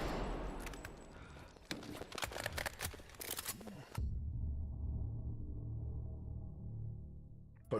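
Rapid gunfire from the video game Bodycam: a cluster of sharp, loud shots in quick succession, then an abrupt cut to a low ambient rumble.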